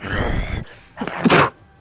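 A single sharp sneeze bursts out close by, following a stretch of low noise.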